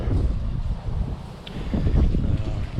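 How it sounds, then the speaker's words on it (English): Strong, cold wind blows steadily outdoors at a car-work spot, roaring and buffeting against the microphone in loud low gusts throughout. "The wind is insane today, and it is cold"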